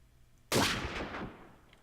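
A single sharp sniper rifle shot in Minecraft's Flans Mod rings out loud after half a second of quiet, followed by a long reverberant tail that fades over a second or so.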